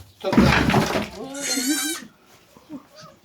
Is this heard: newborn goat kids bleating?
yes